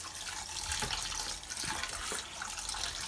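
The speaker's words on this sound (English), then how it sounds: "And now just give that a good wash." Chana chickpeas being washed in water, a steady splashing and trickling wash with faint clinks of the chickpeas, continuous and close.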